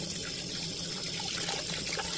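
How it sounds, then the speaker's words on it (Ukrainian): Running tap water splashes steadily as a clogged filter is rinsed and scrubbed clean of coarse deposits, a constant near hiss and trickle with no talking. "Його треба чистити під проточною водою щіткою. Включаємо водичку, змиваємо, грубий нальот."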